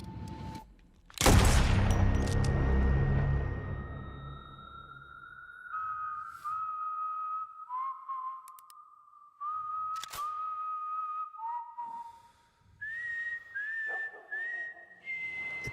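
Tense melodic whistling in a Civil War movie trailer, a lone whistled tune of long held and sliding notes following a loud burst of gunfire and boom, with sharp impact hits cutting in between phrases.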